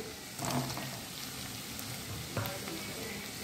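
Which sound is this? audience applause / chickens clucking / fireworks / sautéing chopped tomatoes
sautéing chopped tomatoes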